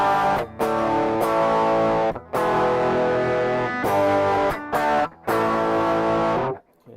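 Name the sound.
guitar through BOSS ME-50 Scream distortion effect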